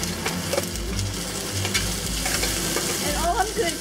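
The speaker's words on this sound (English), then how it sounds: "Add a bit of oil. Add the bamboo shoots." Bamboo shoots fry in oil in a cast iron wok over medium-high heat, giving a loud, steady sizzle and crackle with occasional stirring scrapes throughout.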